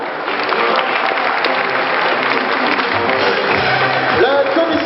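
A large audience at a European trade fair applauds its president, a dense, steady wash of clapping at full volume throughout, with faint voices under it.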